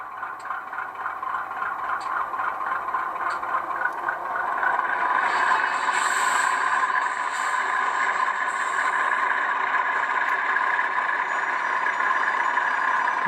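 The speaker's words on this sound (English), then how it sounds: "Three is flange squeal." Flange squeal from a Rapido HO scale C30-7 model locomotive with an ESU LokSound decoder: a continuous, harsh, high-pitched metallic squeal, steady and loud, with a brighter shriek partway through and no talking.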